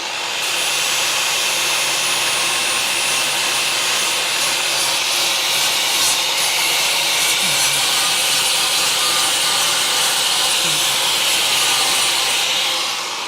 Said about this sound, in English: when is he going to grind that damn thing off?